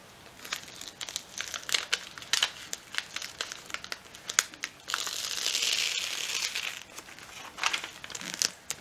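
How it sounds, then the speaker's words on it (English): Paper backing peeled off heat-fusible interfacing webbing, with a run of crisp crinkles and small rips and one longer steady tearing rasp midway, up close and with no talking. "put a little rip in the side of the interfacing, and then you can peel up a little bit of the paper off"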